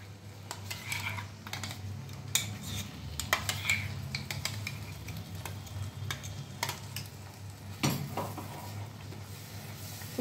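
A paste of onion, garlic, ginger and tomato is stirred into a hot kadai for restaurant-style paneer butter masala, with a steady sizzle under repeated scraping and clinking of the spoon against the pan.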